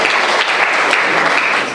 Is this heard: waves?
no